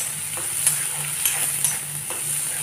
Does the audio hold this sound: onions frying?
yes